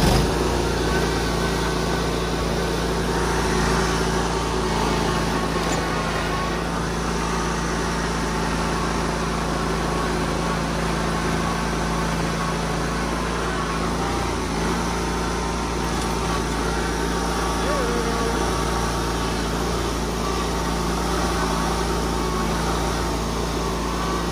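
A riding lawn mower engine runs steadily and loudly throughout, close by, with no talk over it.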